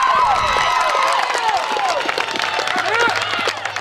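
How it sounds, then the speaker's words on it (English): A softball crowd in Atlanta cheers and shouts loudly throughout a varsity bi-district game after a two-out run-scoring double, with high excited voices and whoops over steady crowd noise. "Much to the delight of this Atlanta crowd"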